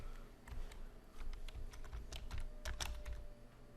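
Quiet, rapid clicking of keys on a computer keyboard as a short search phrase is typed, with a few heavier strokes near the end.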